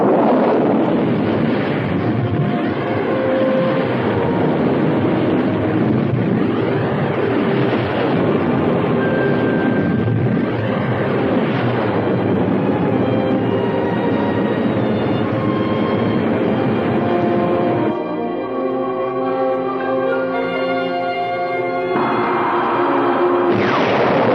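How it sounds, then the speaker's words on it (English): A small aircraft engine with a gyro aboard, started on a called contact, runs loud and steady throughout, a continuous droning roar with a brief shift in tone near the end. "I'll tell you when to start the engine."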